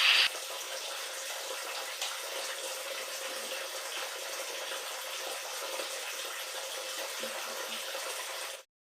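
Tap water pouring steadily into a household sink, a constant close hiss and splash lasting several seconds with no talking, ending abruptly.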